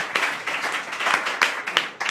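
Audience applause greeting a band as they are introduced on a talk show, a dense, steady wash of clapping with a few louder bursts over about two seconds.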